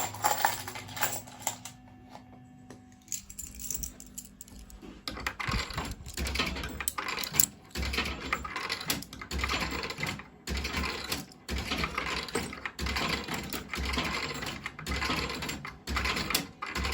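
A Viva Las Vegas fruit machine is played, with rapid clattering button presses, reel clunks and coin-like rattles arriving in a busy, irregular rhythm up close for most of the stretch.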